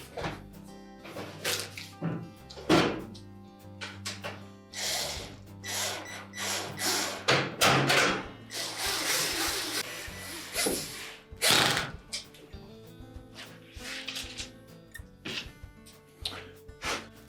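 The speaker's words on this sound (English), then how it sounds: "We'll begin by attaching the two screws at the top first." Screws being driven one after another into the control console of a Whirlpool range, with close, ratcheting clicks and small metallic rattles coming in short irregular bursts.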